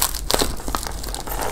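Wrapped item from a mystery box being opened, with close, busy crinkling and crushing of plastic or paper wrapping in quick irregular bursts.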